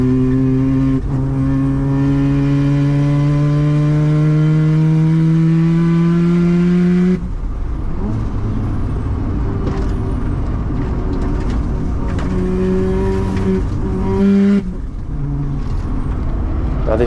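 A 400 HP 13B Mazda RX-7 rotary revs hard and climbs through the gear, cuts off sharply for the shift into fourth, then pulls again, loud and close from inside the car.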